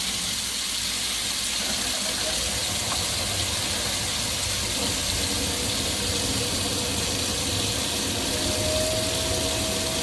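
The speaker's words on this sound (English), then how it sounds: "So now I'm going to open the hot water." Hot water gushes steadily from a tap for the whole stretch, a continuous broadband hiss with a faint mechanical hum underneath from a Vaillant boiler with an F28 igniter fault.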